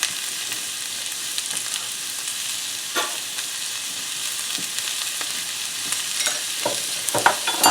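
Garlic fries in hot oil in a pot, a continuous bright sizzle with light crackles and a few stirring taps, close and fairly loud with no talking.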